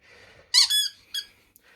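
A rubber squeaky toy lets out two sharp, high squeaks in quick succession, close and loud.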